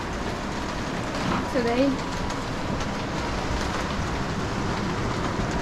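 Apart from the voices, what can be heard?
torrential rain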